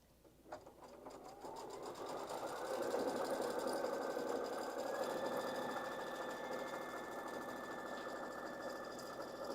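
A sewing machine stitches an embroidered wall hanging, starting with a few clicks, then ramping up into a steady, fairly quiet mechanical whir that holds for several seconds, close by and without speech.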